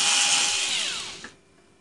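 A small electric screwdriver whirs loudly as it backs screws out of an HP Pavilion dv7-6100 series laptop, then winds down and stops with a faint click.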